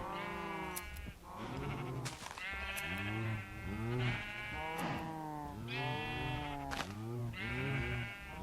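Sheep bleat repeatedly in a video game as they are sheared, overlapping wavering calls following one another almost continuously, fairly loud and close.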